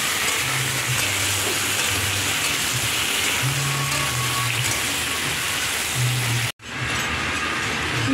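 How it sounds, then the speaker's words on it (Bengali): Potato and taro pieces fry in hot oil for a vegetarian soybean and taro dish, giving a steady, close, even sizzle with a low hum beneath, broken by a brief cut near the end. "ভালো করে সেটাকে ভেজে নেব।"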